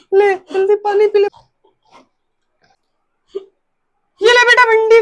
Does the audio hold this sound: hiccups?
yes